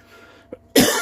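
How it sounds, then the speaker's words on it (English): A single sharp, close cough after a brief soft throat sound, in an otherwise quiet room. "let me do some coughing here first"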